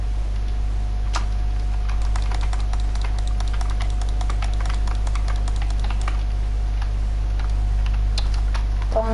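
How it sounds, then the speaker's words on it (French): A computer keyboard and mouse being used to play a game give a steady run of light clicks and key taps over a constant low hum, fairly close and with no one talking. "Ça fait trop bizarre de jouer clavier souris"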